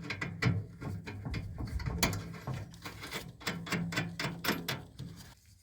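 Quiet ratcheting clicks from a wrench tightening a 9/16 nut on a Craftsman LS 170 emergency brake, in an irregular series of short metallic strokes close by.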